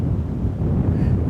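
Wind buffets the microphone in a steady low rumble, a brief gusty roar with no voices.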